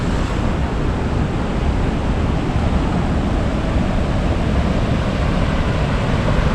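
Jiktang waterfall, a wide, low falls swollen after heavy rain, roars as a loud, steady broadband rush that never lets up, with no voices over it.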